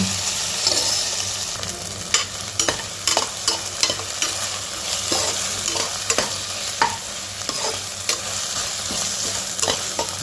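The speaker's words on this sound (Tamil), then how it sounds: "நல்லா ஆனியனோட அந்த இஞ்சி பூண்டு பேஸ்ட் வந்து நல்லா மிக்ஸ் ஆகிற மாதிரி நல்லா மிக்ஸ் பண்ணி விட்டுக்கோங்க" A spoon scrapes and stirs ginger-garlic paste into frying onions in a pan, with repeated sharp scraping knocks over a steady sizzle, close and clear with no talking.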